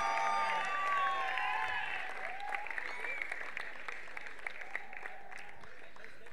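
Audience applause at a monsoon football tournament prize ceremony, honouring the goalkeeper; a dense, steady wash of clapping that thins toward the end, with a voice briefly over it.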